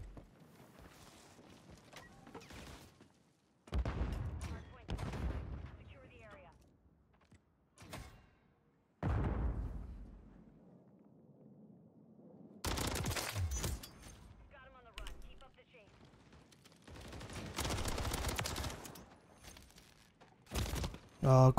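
Video game gunfire from a Modern Warfare 3 ranked match, loud bursts of automatic shots in several separate spells, with quieter gaps in between and a voice speaking at points.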